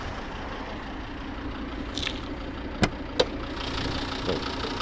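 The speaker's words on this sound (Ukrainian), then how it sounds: "Ту ж роботу двигуна можемо послухати" A 2011 Volvo V60 2.0 D4 diesel engine idles with a steady, low rumble, joined by a couple of brief sharp clicks.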